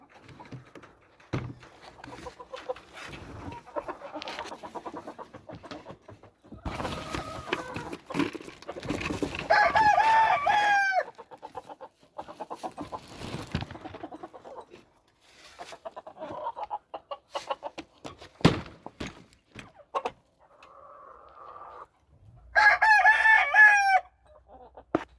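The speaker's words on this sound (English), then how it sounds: "is a Peruvian Kelso cock. That is a Peruvian gray hen." A Peruvian Kelso rooster crows loudly several times, with a Peruvian gray hen and a black roundhead hen clucking and cackling in between, the calls close and overlapping throughout.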